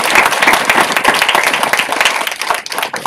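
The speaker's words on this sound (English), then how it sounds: "Keep clapping, keep clapping" An audience at an entrepreneurship talk claps in a dense, steady round of applause, loud and close throughout without voices over it.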